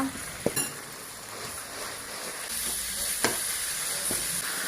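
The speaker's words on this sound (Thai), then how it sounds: "ผัดกระเทียมก่อนนะคะ" Garlic stir-fries in a hot pan as the first step of an Isan-style spaghetti, a steady close sizzle with a couple of sharp clinks of a utensil against the pan.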